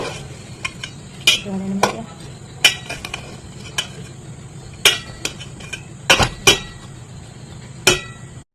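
A spoon stirs cauliflower in a cooking pan, producing repeated sharp metallic clinks and scrapes at an irregular rhythm over a soft background hiss, with a brief spoken phrase.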